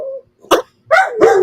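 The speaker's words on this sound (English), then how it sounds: "You're not supposed to bark at the videos that we're looking at." A dog barks three times in short, loud bursts, with a clear pause after the first low yelp and then two sharp barks close together, alone in a quiet room.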